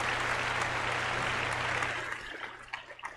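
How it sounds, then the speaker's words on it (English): A brief burst of applause on a paranormal and supernatural call-in radio show, a dense clapping wash that thins and tapers off after a couple of seconds. "And a big round of applause for Chloe."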